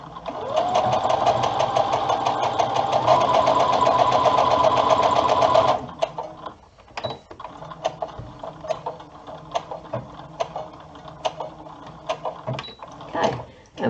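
A sewing machine stitches a hood seam on a Tami garment, running loud and steady for about six seconds before stopping, followed by quieter handling noises and brief clicks.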